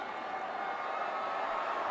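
Steady, dense murmur of a packed cricket stadium crowd at a Nepal versus Afghanistan T20 World Cup match, waiting on a hat-trick ball; a continuous, even wash of distant voices with no distinct cheers.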